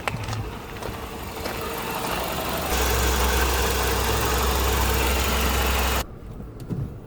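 A Renault Megane 2 engine idles evenly up close, a steady mechanical hum that deepens into a heavier low rumble midway before cutting off sharply, leaving quieter background noise.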